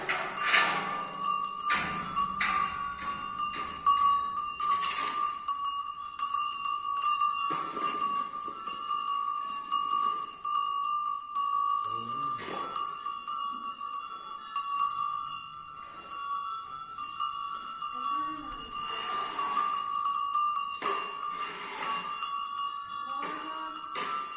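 Bells ring on and on, their resonant tones hanging steadily in the air with repeated strikes every few seconds, no voices.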